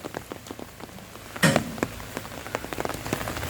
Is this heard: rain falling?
yes